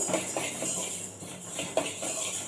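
Dry fenugreek seeds being stirred in a pan with no oil as they roast, giving soft repeated scraping and light rattling of the seeds against the metal.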